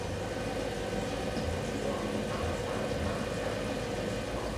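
A BMW engine runs steadily at raised revs during a DCT gearbox fluid level check, giving a continuous even mechanical hum and drone from close by with no talking.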